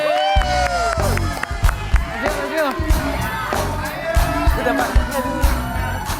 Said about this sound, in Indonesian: Tepuk tangan untuk Ivan Gunawan.